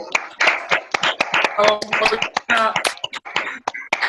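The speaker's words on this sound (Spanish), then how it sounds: "todos abrimos nuestros micrófonos para darle un fuerte aplauso" Participants in an online ophthalmology meeting clap over open microphones, a scattered run of distinct hand claps from a few people, mixed with overlapping cheerful voices.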